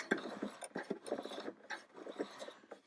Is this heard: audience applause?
no